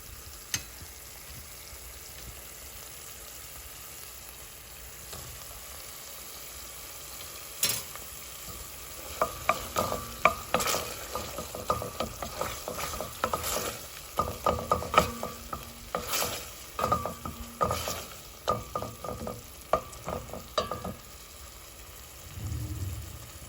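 Tomatoes frying in hot coconut oil for a tofu curry, a steady sizzle broken by a run of clattering spoon strokes and scraping in the pan through the middle, then settling back to a quieter hiss.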